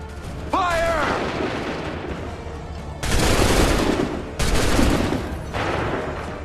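Musket volleys and cannon fire from a battle in Assassin's Creed III boom out in long, dense bursts, with a shouted voice at the start and heavy roaring blasts following one after another.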